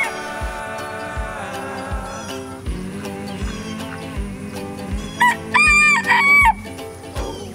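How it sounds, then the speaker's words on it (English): A small bantam rooster crows loudly near the end, a high, strained cock-a-doodle-doo over steady background music with a thumping beat. "This little bantam rooster is now free ranging"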